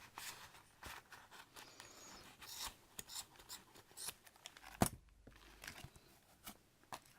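Scissors snip repeatedly through the bottom of a bundled wool yarn tassel, a series of close, crisp cutting and rustling sounds with one sharper snip near the end.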